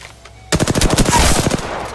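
A rapid burst of automatic gunfire in the Apex Legends video game rattles out loud and close, a fast stream of evenly spaced shots lasting over a second before trailing off.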